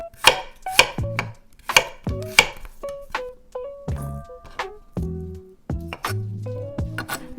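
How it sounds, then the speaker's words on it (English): A knife roughly chopping garlic and thinly slicing ginger on a board, heard up close as a run of crisp, uneven thunks and taps with short pauses between bursts. "Then, roughly chop the garlic. Thinly slice the ginger."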